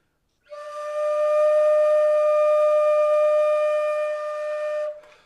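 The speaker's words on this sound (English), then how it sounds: "a variation of harmonics that I call undertone harmonics" An undertone harmonic on a flute, played by fingering high B and underblowing with relaxed open air. It is a single pure, steady sustained tone with soft overtones that holds for about four seconds alone, then stops.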